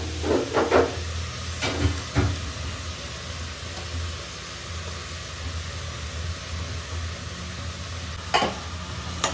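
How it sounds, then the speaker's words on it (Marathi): Carrots tumble into onions already sizzling in a pan while momo filling is cooked, with a few sharp clatters and stirring scrapes early and near the end over a steady, moderate hiss; no one talks. "कांदा टाकून झालाय, आता आपण ह्याच्यात टाकूया गाजर."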